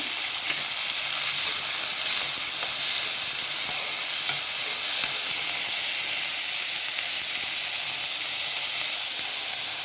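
Chopped tomatoes frying in a hot pan make a loud, continuous hissing sizzle that stays close and even for the whole stretch, with no talking over it.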